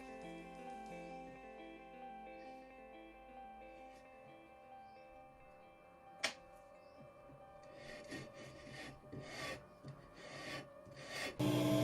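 Quiet, steady rubbing strokes of sandpaper squaring up a wooden part for an ergonomic classical guitar build, soft rasping passes growing louder and busier toward the end, with no talk.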